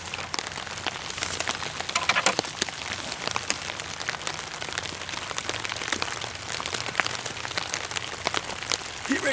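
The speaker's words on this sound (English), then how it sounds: "So when you hear it start beating down," Water from a hose, simulating heavy rain, beats down on a Dyneema or sil-poly camping tarp. The drumming is dense, steady and close, with crackling patter and no voices.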